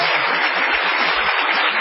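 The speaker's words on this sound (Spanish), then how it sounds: "Aprovechemos el gran número para hacer temblar los estamentos de Occidente con esta ovación a Patricio Barton." Sustained applause from an audience, dense clapping filling the space steadily and loudly throughout, with no voices standing out.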